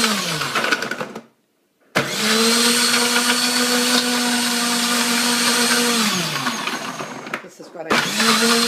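A blender whirs loudly while blending a smoothie, starting with a short burst, pausing, then running steadily for several seconds before winding down and restarting; a voice speaks briefly near the start.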